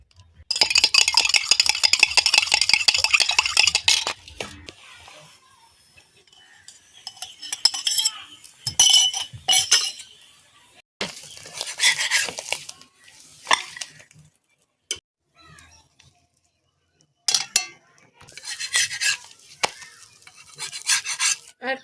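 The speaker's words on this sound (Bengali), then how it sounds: "ডিমটা ফেটিয়ে নেব।" Eggs being beaten in a bowl for Kolkata-style egg rolls: rapid scraping and clinking of a utensil against the bowl, in several loud bursts separated by short pauses.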